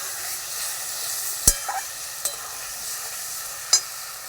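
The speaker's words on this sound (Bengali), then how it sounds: "হালকা একটু জল দিয়ে মশলাটাকে কষিয়ে নেব।" Spice paste with a little water fries in a pan, giving a soft, steady sizzling hiss broken by a few sharp clinks and scrapes from the spoon, close and without talk.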